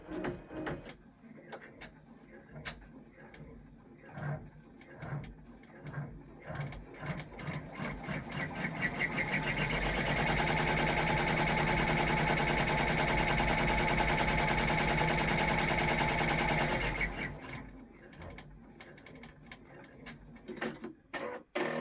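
A sewing machine runs a tack-down stitching line on a pilgrim paper towel holder cover, starting with short bursts of stitches, then a steady continuous whirring run for several seconds before slowing back to short pulses, close and loud with no talk.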